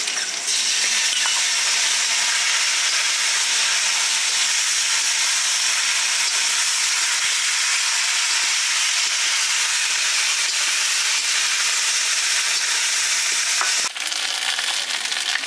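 Ginger, cumin and green chili paste hits hot oil in a pan with fried potatoes, giving a loud, continuous close sizzle and hiss that holds steady throughout, with no talking.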